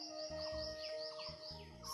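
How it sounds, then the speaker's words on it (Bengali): Birds chirp in the early morning in a quiet rural setting, with short bright tweets repeating over about two seconds above a steady low hum. "চারিদিকে শুধু পাখির কিচিরমিচির শব্দ"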